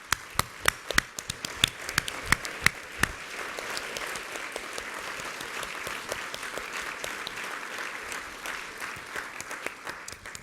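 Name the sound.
audience applause at award ceremony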